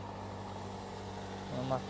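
A car engine idles at a car market in Turkmenistan, making a steady low hum that stays close and even throughout. A brief voice rises over it near the end.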